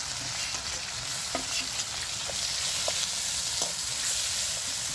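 Ginger, garlic and onion paste fries in a pan with tomato, giving a constant loud sizzle broken by a few sharp stirring scrapes, with no talking.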